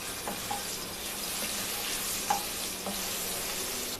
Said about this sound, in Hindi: अब इसके अंदर मैं ये 1 छोटा चम्मच लहसुन का डाल रही हूँ